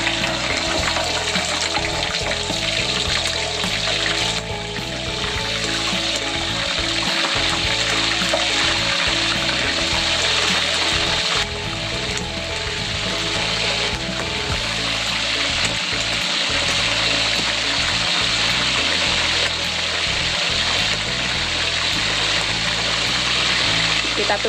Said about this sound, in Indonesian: Nah, sekarang kita goreng lagi yang setengahnya ya